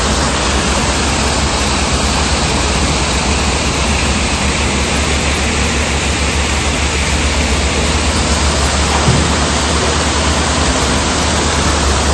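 A waterfall flows in Darma Valley, Uttarakhand, beside a stream crossing above the Dhauliganga river, giving a steady, loud, unbroken broadband rush for the whole stretch, with no voices.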